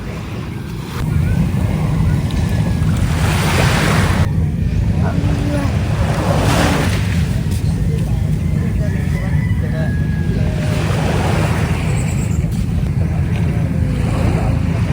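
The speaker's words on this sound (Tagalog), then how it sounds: "titig na titig po si Teo sa alon." Rough ocean surf and waves wash in repeatedly under strong wind buffeting the microphone, with voices talking faintly over it.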